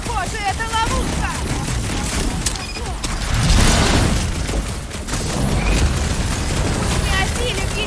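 Rapid bursts of gunfire and heavy booms fill a combat scene in Marvel's Guardians of the Galaxy video game, loud and continuous, with characters' voices shouting over the fight.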